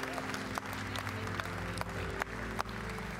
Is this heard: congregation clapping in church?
yes